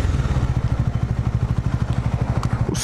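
Rapid rhythmic thumping from a Bajaj Dominar 400 motorcycle engine while riding, loud and close, pulsing evenly throughout, with a brief clatter right at the end.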